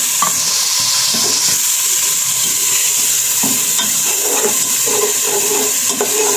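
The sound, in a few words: water added to frying fish curry masala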